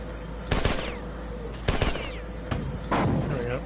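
Shotgun and weapon fire in a first-person shooter game as a player shoots a switch, three sharp loud blasts spaced about a second apart, each with a short ringing tail, alone.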